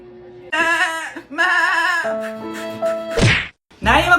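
A goat bleating sound effect: several loud, wavering bleats in succession, punctuated by a sharp whack-like hit near the end before another bleat starts.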